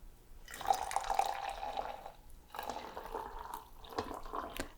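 Hot water is poured over a silken tea bag, filling the cup about three-quarters full with two close, splashy bursts of liquid, separated by a short pause and heard without talk.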